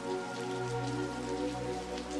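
Steady rain falls on glass, a continuous soft patter with no gaps, heard alone under a faint sustained tonal hum from a sleep meditation soundscape.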